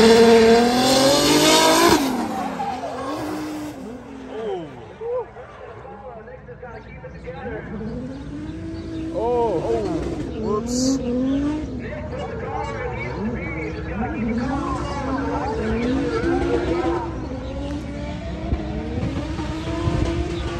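Nissan Z and S-chassis drift cars at a Formula Drift pro-am day at Hallett, engines revving and tires squealing at a distance beneath steady commentary.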